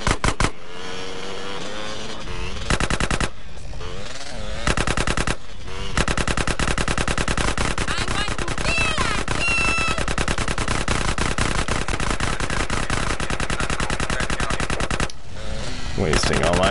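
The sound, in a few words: gunfire from video game GTA San Andreas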